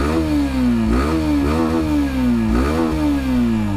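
A Hero Xtreme 160R Stealth Edition 2.0 motorcycle revs up close, its exhaust note rising and falling in three or four quick blips over a steady, throbbing idle.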